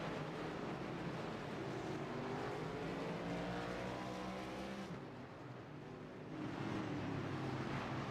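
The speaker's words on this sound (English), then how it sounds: "So, pace car comes back out onto the raceway." Race cars and a pace car circle a paved oval raceway at an Old Glory Cup Series event, engines droning continuously at moderate distance, with a brief dip as a car passes before the roar swells again.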